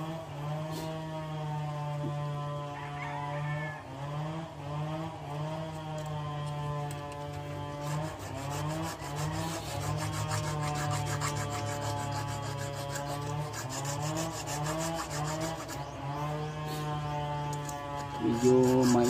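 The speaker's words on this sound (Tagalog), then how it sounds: "pasensya na kayo mga idol kasi mayroong naglalagari." Someone saws close by, a continuous rasping drone with a tonal, humming edge that rises and falls steadily, moderately quiet.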